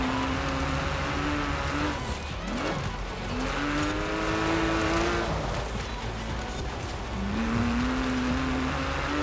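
A Porsche races in Forza Horizon 4, its engine note climbing and dropping through gear shifts as it accelerates, with tire noise and constant game sound over nine seconds and no speech.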